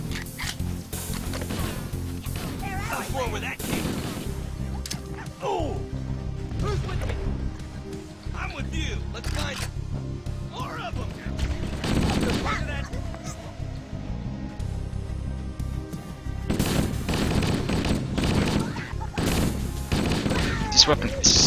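A weapon in Halo fires in scattered bursts and single shots amid impacts and crashes, with someone talking over the action.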